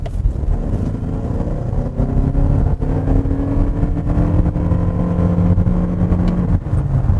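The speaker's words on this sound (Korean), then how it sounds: "가속을 한번 해보도록 하겠습니다." A Lexus NX hybrid with a CVT transmission accelerates, giving a loud, steady engine and motor drone from inside the cabin with a gradually rising tone and no one speaking.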